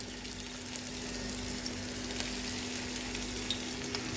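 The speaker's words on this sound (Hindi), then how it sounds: "अब हम एक एक पीस जो है ना इसको इस तरह रखेंगे, इसको फ्राई करेंगे हम, डीप फ्राई नहीं करेंगे" Beef boti pieces shallow-fry in oil in a pan, a steady, close, even sizzle with faint crackles running throughout and no voices.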